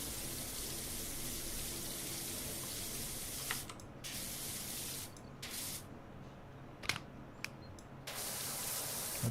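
Steady broadband hiss of a pressure washer spraying metal in the video game Power Wash Simulator, continuous with several brief cutoffs where the jet stops and restarts, alone without talk.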